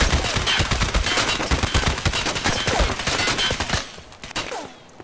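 Rapid automatic gunfire from Escape from Tarkov rattles in long, dense bursts, loud and close, then tapers off into quieter scattered shots near the end.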